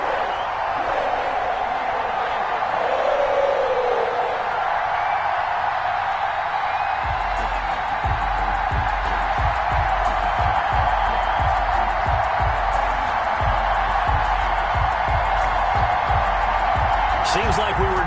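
A stadium crowd in an EA Sports football game, Green Bay Packers against Cincinnati Bengals, keeps up a steady roar of cheering under a commentator's voice, with rhythmic claps and thumps growing in the second half.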